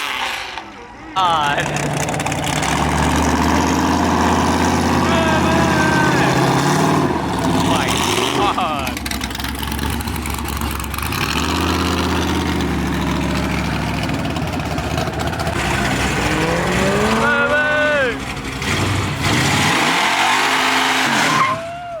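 A Chevrolet Corvette C6 Z06 idles and revs as it leaves a cars and coffee meet, a loud engine rising and falling in repeated revs with tire squeal and crowd voices around it.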